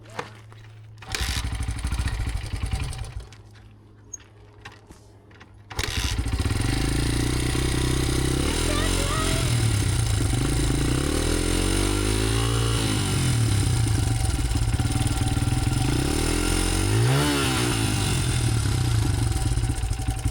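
Honda dirt bike bought cheaply off a marketplace, its engine cranking briefly, pausing, then catching and running loud and close, revving up and down in repeated throttle blips over a steady idle.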